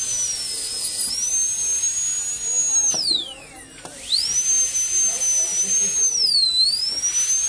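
A dental bur drills a stone die during die preparation, a close, piercing high whine that holds steady and then drops in pitch twice as it bites into the material.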